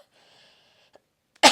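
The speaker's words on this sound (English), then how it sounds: "How dare you cough?" A single short, sharp cough bursts out at the end of a quiet stretch during a golf podcast recording, close and loud.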